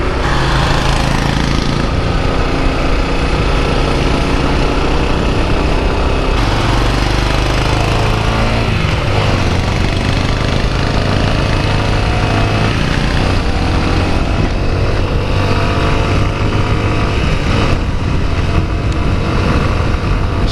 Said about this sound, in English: The subtle grunt from the exhaust, that feels nice.